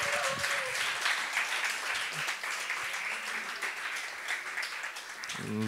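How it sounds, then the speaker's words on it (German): Steady audience applause fills a small student bar venue for nearly six seconds, dense and continuous at moderate level, with brief voices and a faint tonal sound at the start and a voice returning at the end. "Okay, nochmal großen Applaus für Kira"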